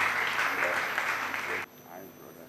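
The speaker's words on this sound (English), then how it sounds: "Can you please clap for him?" Audience clapping for the bride's brother at a wedding, a dense wash of applause that runs steadily for about a second and a half and then cuts off abruptly into quieter room sound.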